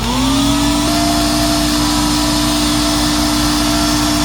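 A Tristar CXL two-speed vacuum cleaner runs steadily through an airflow test, fitted with a HEPA bag, making a loud, continuous motor roar and high whine that stays constant throughout with no voices.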